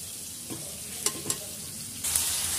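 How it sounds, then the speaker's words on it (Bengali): Cabbage tipped into a hot pan and stirred with spices, with a soft background sizzle, a few utensil scrapes, and a louder hiss rising near the end as the leaves hit the oil. "তো চলো এখানে আমি বাঁধাকপিগুলো দিয়ে দিই।"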